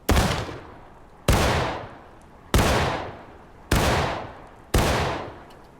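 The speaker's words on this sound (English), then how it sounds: "Firing by file from the right. Aim. Commence firing." Musket volley fired by file in the War of Rights video game: five loud, booming shots at roughly one-second intervals, each with a long decaying rumble and echo.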